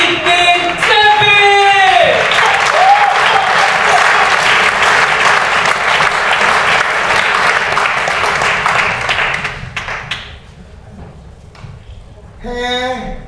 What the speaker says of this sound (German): Heißt sie mit einem lauten und donnernden Applaus willkommen.